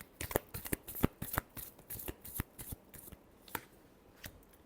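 Tarot cards being shuffled by hand, with a quick, irregular run of close, crisp riffling snaps and flicks and no speech.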